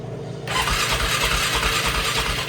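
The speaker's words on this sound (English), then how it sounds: "Let's try to fire this up here." A flooded Polaris Sportsman 500 ATV engine cranks and catches after fuel is added to the carburetor, starting abruptly after a quiet moment and settling into a steady, close, pulsing idle.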